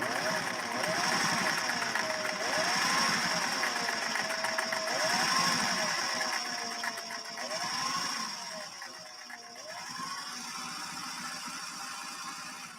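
A classic Singer Slantamatic sewing machine stitching, its motor giving a steady close mechanical whir that rises and falls in speed over a broad hiss.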